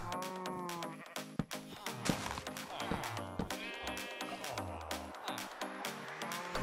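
Sheep in the video game Minecraft bleat repeatedly in short, close, nasal calls, mixed with other game animal noises and clicks.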